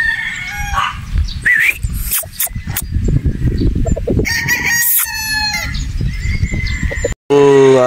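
A Boston Roundhead brood stag rooster crows in a farmyard alongside clucking fowl, with several crows and clucks over a busy background of other birds and livestock, loud and close.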